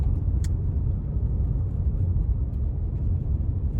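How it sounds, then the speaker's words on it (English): On a rural back road, a car passes close by, giving a steady low rumble of engine and tyre noise that holds throughout without any voices. "oh, look at two cars."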